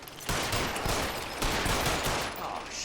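Rapid gunfire crackles through a shootout in the L.A. Noire video game, a dense continuous burst of shots lasting a few seconds, loud and close with little pause.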